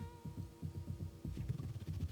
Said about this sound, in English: So now I got interference going again.